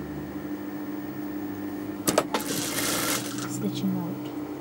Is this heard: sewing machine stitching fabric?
yes